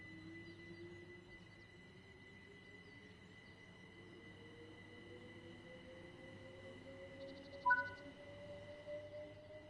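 An electric train in a train simulator video game hums steadily along, its low motor whine slowly rising in pitch, with a brief squeal of wheels near the end.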